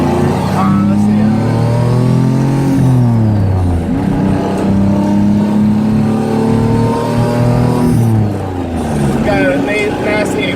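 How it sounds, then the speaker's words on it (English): Nissan car engine revving with an exhaust leak, a loud rising and falling drone that climbs in pitch twice, with a voice speaking over it throughout. "Got a nasty exhaust leak."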